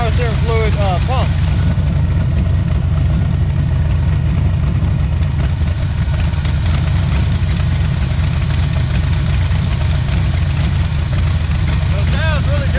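An old drag car rescued from a scrapyard idles after a cold start, its engine giving a loud, steady low rumble throughout, with someone talking over it.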